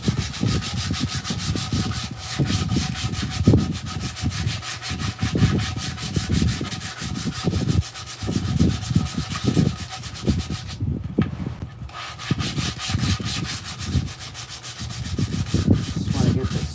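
Steady rubbing strokes of sandpaper on a hand-carved wooden mushroom, close and continuous with a rhythmic back-and-forth scrape and a brief pause near the end.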